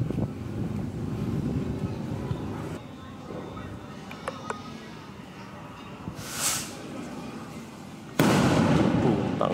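Leftover firecracker from a 2025 New Year stash set off outdoors, giving a short sharp burst partway through and then a loud sustained blast near the end, over wind rumble with voices talking.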